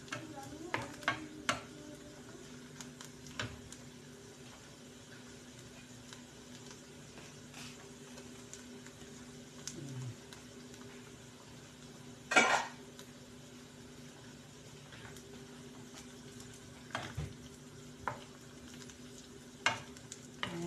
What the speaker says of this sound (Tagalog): Ninigisa ko muna yung bawang at saka ano sibuyas